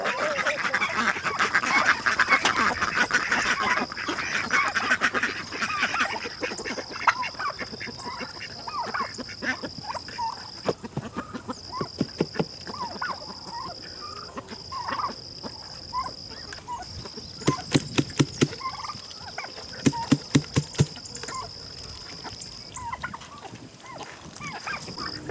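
A tom turkey and three hens call during morning feeding on a farm, with bursts of gobbling and clucking over steady outdoor background noise, plus a run of sharp repeated clicks and taps later on.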